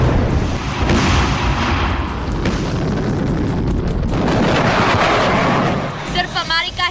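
Artillery and missile fire in Russia–Ukraine war footage, a dense continuous barrage of booms and blasts at high level throughout, with faint harmonic tones emerging near the end.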